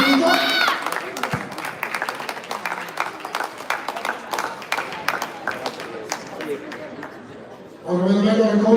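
Applause at a youth under-15 regional boxing tournament award ceremony in Veneto, a steady patter of crowd clapping under a speaker's amplified voice, with more talk at the start and end.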